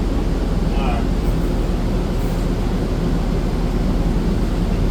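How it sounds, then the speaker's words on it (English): A SEPTA XDE40 hybrid city bus roars loudly from close by, a constant heavy rumble with a hissing broadband wash that stays steady for the whole stretch, and a brief faint squeal early on. "That bus is so loud, I can't hear it."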